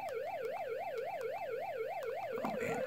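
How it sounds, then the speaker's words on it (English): A police car siren from the NES game Matchbox Motor City Patrol wails in a steady, rapid up-and-down electronic warble, loud and continuous, with a brief burst of other game noise near the end. "I had the sirens on"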